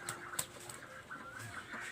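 Native-breed chickens kept at a family home cluck softly, a few scattered, faint calls against a quiet yard background with no talking.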